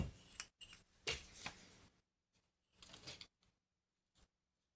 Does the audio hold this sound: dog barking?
no